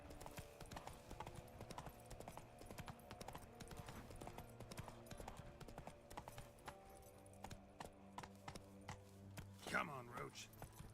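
Horse hooves clip-clop at a steady trotting rhythm in The Witcher 3: Wild Hunt, with game music underneath and a whinny near the end.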